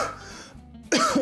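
A person coughs and clears their throat in a short burst, close and fairly loud, with a quieter hoarse stretch before it and a louder rough cough at the end.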